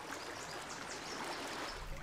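Irrigation water from an aflaj channel in Oman flows through an open sluice gate into a field, making a steady, soft rushing trickle that continues evenly throughout.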